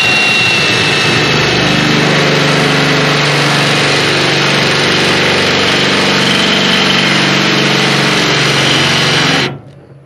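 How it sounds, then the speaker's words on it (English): A loud, steady drill whines continuously at close range, holding one pitch for several seconds before cutting off abruptly, while drilling to install a Rock Block on a John Deere. "let's get started on drilling"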